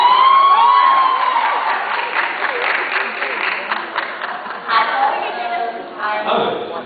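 Dense convention crowd at a horror fan event cheering and applauding loudly, a sustained wash of clapping and shouts that eases slightly and then swells again.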